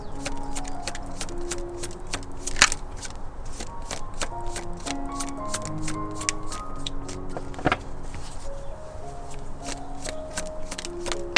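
Tarot cards shuffled continuously by hand, giving soft steady riffling with occasional sharper card snaps, close and alone over a faint background hum.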